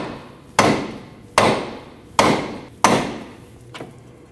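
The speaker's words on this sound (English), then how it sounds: "You can take a rubber mallet and hit in this direction." A rubber mallet strikes the outer tie rod end on the steering knuckle of a 2003-2008 Subaru Forester, four sharp, loud blows spaced under a second apart, each with a short ringing decay, then a fainter tap.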